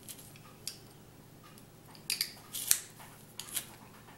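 Garlic cloves squeezed through a press for pumpkin fritters, a few faint crunchy squishes and clicks with sharper snaps in the middle, close by in a quiet kitchen.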